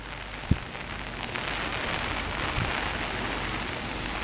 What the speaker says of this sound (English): And now the rain and the wind starts up again in earnest.